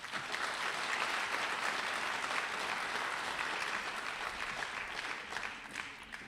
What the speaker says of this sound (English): Let's give these Borlaug scholars a round of applause.